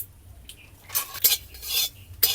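Whole cumin, black cumin, cardamom, cinnamon, coriander seeds and dried red chillies dry-roasting in a pan for a spice blend, heard as a few scraping stirs and clinks of a utensil against the pan over a faint background, with no talking.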